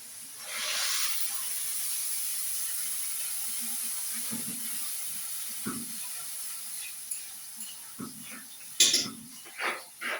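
Water is poured into a hot pan with cumin, setting off a loud sustained hiss that fades into softer bubbling, with a few clattery bursts toward the end.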